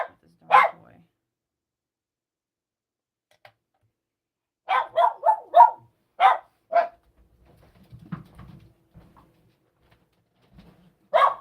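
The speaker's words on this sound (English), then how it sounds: "You can hear the dog." A dog barks indoors in separate bursts: a single bark, then a quick run of several sharp barks, a couple more, and one last bark at the end, with some faint muffled sounds between.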